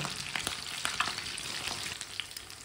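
Kebabs fry in a pan with a continuous crackling sizzle and scattered sharper pops. The sound is close and moderately loud, with no voices.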